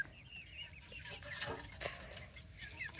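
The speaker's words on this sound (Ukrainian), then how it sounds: "Зараз я вам курочку поближче покажу." A hen clucks softly nearby on a small farm, giving a few short, low clucks against quiet background noise.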